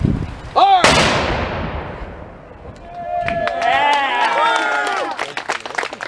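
A Civil War reenactment cannon fires with a single sharp, loud boom followed by a long fading rumble, then a crowd cheers and claps while people talk and whistle.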